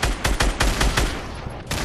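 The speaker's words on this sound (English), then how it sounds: "they're shooting at me" Rapid bursts of gunfire ring out in a Fortnite Blitz match, with loud, close shots fired in quick succession, a brief lull, then another shot.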